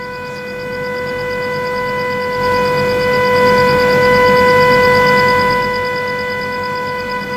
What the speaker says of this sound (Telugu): ఈ సైరన్ యొక్క సౌండ్ ఈ మొత్తం హెవీగా వినిపిస్తుంది